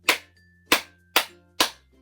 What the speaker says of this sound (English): I'm just gonna clap my hands once